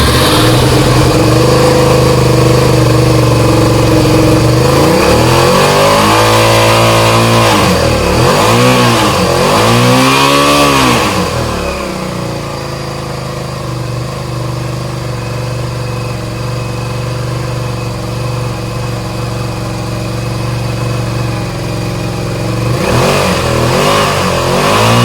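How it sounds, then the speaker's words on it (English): A Suzuki SV650 motorcycle engine with a suspected faulty stator idles, then revs up and down several times in quick surges, drops back to a steady idle, and revs again at the end. "let's try it with a bit of rev"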